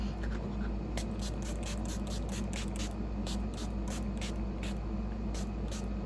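Rapid bursts of makeup setting spray from a pump bottle, a long run of short, evenly spaced puffs close by over a steady low background hum.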